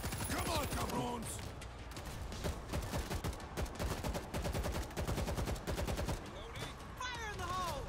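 Sustained automatic gunfire in the zombie shooter World War Z as shots pour into barrels: loud, rapid, evenly spaced rounds in long bursts, with brief pauses and game voices at the start and end.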